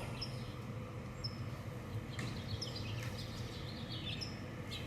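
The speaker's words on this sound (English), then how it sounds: "house finch" A house finch sings outdoors, thin bright chirps and warbling phrases recurring at moderate distance over a soft background hum of ambient noise.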